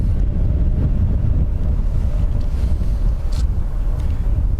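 Gusty crosswind of up to 25 knots at Dublin Airport roars and buffets the microphone in a constant, loud low rumble with no clear breaks.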